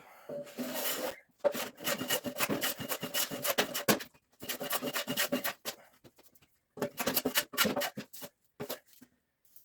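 An electric hand planer passing over a wood slab being flattened, harsh rasping bursts in several long passes separated by short pauses, close and loud with no talk.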